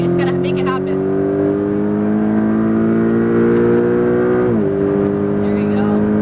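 A car accelerates hard on a driving track, its engine note climbing steadily as it pulls through the gears, with a brief shift near the end, loud and close under a coaching voice.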